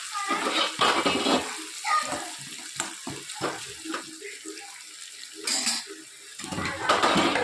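Tap water runs in bursts into a kitchen sink while vegetables are rinsed, splashing close by with short pauses and light clinks of utensils.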